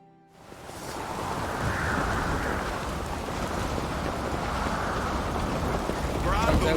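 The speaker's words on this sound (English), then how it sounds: "Raining fucking buckets." Heavy rain in the video game The Witcher 3: Wild Hunt pours down in a dense, steady hiss that swells in after a quiet start, with a low rumble underneath.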